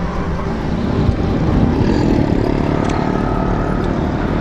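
Steady street traffic fills the road near Urdu Bazar in Karachi, a dense, continuous roar of engines and passing vehicles with no clear breaks, loud and close throughout.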